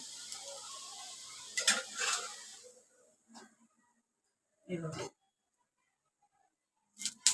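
Rice and coconut ghavane being flipped and lifted from a hot pan: a soft sizzle that fades out, then a few brief, separate scraping bursts.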